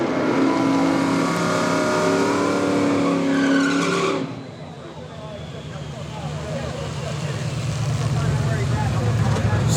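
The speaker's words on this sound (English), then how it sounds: "The Malibu and the Mazda off the line right together, top end." Drag race cars, a Mazda and a Malibu, launch side by side in heads-up racing, their loud engines roaring hard before the sound drops and a rougher engine rumble builds again, with a voice talking over it.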